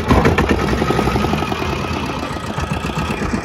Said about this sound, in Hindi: और ये बोट स्टार्ट हो गई अपनी